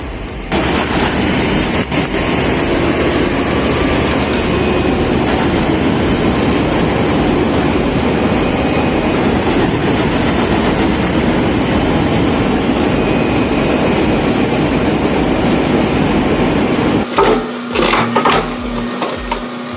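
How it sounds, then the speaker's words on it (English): A heavy demolition machine slices through a train car with a loud, continuous grinding and crunching roar of tearing metal, dense and close throughout, breaking into scattered clanks and bangs near the end. "they just pick up that train car and slice it in two like it's a loaf of bread"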